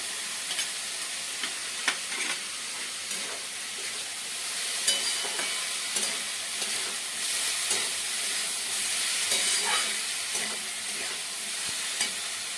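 Cumin and chili paste sizzle and fry steadily in a pan for a banana flower curry, a continuous bright hiss broken by occasional stirring scrapes, close and fairly loud with no talking.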